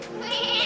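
A goat bleats once in a short, wavering call, moderately close, with no talk over it.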